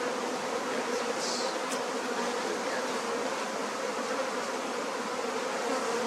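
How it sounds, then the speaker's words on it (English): Honey farm bees swarm in the air, producing a continuous, dense buzzing drone of many insects close by, steady throughout with no talking. "And the bees are not usually like this in the air either."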